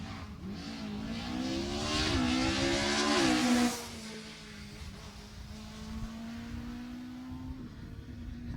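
A Mark II Ford Escort rally car on a stage at the Jersey Rally 2018 roars past, its engine revving high and climbing through gears before fading into the distance as it drops to a lower drone.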